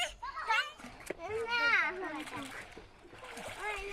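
Children splash and dive in a village pond in Laksam, Cumilla, with bursts of water splatter mixed with excited kids' shouts and an adult voice talking close by.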